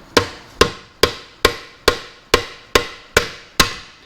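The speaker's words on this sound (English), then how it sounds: "grab yourself a dead blow hammer or a brass drift and we're going to be pushing the shaft this way." Nine evenly spaced, sharp impacts from a dead blow hammer driving a shaft to push out a third motion bearing on a classic Mini gearbox, each strike loud and close with a short decaying ring.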